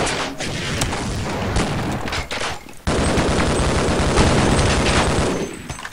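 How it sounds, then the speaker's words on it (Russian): Shotgun blasts in a first-person shooter game, loud and close in dense overlapping bursts with one brief gap before another heavy barrage. "О боже, дробовик, дробовик."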